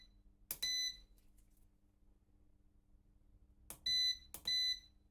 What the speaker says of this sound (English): I will make a few beeps to increase the discharge current.